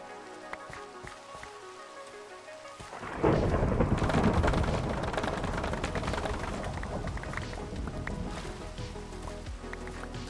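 In the Minecraft video game, a loud thunderclap breaks in suddenly and rolls into a steady downpour of rain that continues and slowly fades, after quieter scattered game sounds at the start.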